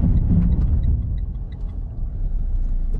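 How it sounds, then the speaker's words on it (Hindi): A 2019 Nissan Kicks diesel with ABS, EBD and brake assist brakes hard from 80 km/h. A heavy, low road rumble starts strong and eases off slightly as the car slows. "तो अभी मैं 80 km/h पे डीप ब्रेक मारूंगा।"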